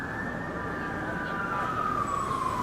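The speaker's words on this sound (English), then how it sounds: "Sirens galore tonight." A siren on a city street sustains one long tone that drifts gradually downward. It rises clearly above a dense, continuous hum of traffic.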